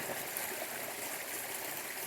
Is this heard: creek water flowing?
yes